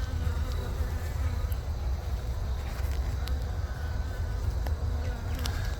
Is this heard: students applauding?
no